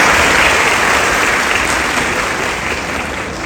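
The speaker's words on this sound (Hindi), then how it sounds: "आपकी तालियों।" A crowd applauding loudly at a live tribute to police martyrs on Shaheed Day, a thick, sustained roar of clapping that eases slightly over a few seconds.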